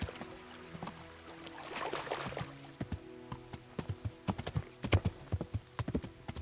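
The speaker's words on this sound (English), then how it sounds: "Alright, come on, horse." Horse hooves clip-clop in Kingdom Come Deliverance, starting muffled under soft ambient rustle and then turning into a crisp, steady walking rhythm of distinct hoof strikes close by.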